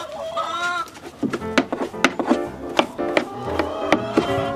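Hens clucking and squawking inside a snowy winter coop, a busy overlapping chorus of short calls close by with no talking.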